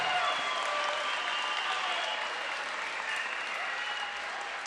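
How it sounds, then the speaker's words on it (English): An arena audience claps for two boxers after their fight, a dense, steady wash of applause that fades slightly toward the end. "how about a big round of applause for both these warriors putting on a great show?"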